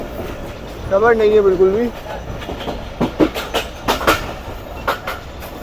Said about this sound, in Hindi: ट्रेन यहाँ से थ्रू पास करती है, जैसा कि इस वक्त कर रही है